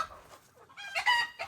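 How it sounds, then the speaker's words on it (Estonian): Roosters crowing and clucking on a farm, a burst of loud, harsh calls rising near the end of a short stretch after quieter fowl sounds. "kuked on täiesti lolliks läinud"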